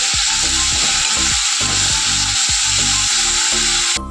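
Dried red chili tempering with ginger, garlic and onion paste frying in hot oil in a Bengali home kitchen, a loud continuous sizzle with repeated stirring scrapes and clatters in a steady rhythm, close up and without talk.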